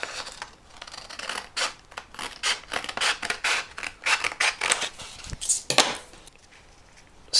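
Scissors snip through a paper strip in a quick, steady series of crisp cuts, close and distinct with short gaps between them, nearly a dozen in a row.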